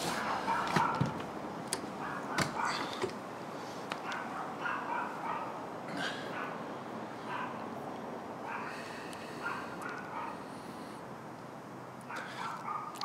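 A small dog yips and barks in sharp, irregular bursts between whimpers across several seconds, fairly close, with faint background noise.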